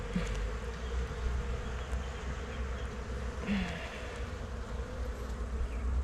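Honeybees buzzing at an open hive in Réunion, a steady close drone of many wings holding throughout, with a few louder passes of single bees near the listener.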